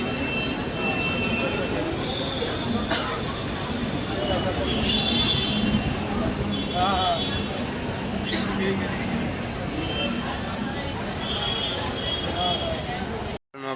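A metro train pulls into a station with a steady, loud rumble and rolling noise that fills the scene throughout, with brief higher squeals and hisses, ending abruptly.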